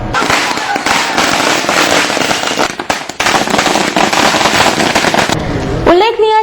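Firecrackers set off in celebration to welcome a newly appointed president, a dense, continuous rattle of rapid loud bangs and crackles that briefly drops out and resumes, with a rising whistle near the end.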